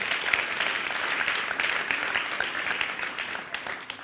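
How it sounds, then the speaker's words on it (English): A talk audience applauds steadily, many hands clapping in a continuous, moderately loud wash that holds for several seconds with no one speaking over it. "Give yourselves a round of applause."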